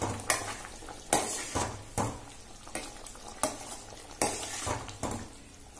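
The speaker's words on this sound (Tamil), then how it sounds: "நல்லா வெந்துகிட்டு இருக்கும் போதே ஒரு கிண்டு கிண்டி விடுங்க" Catfish curry being stirred in a cooking pot, a series of about eight rhythmic scraping and clinking strokes of a ladle against metal over a faint bubbling simmer, close but quiet.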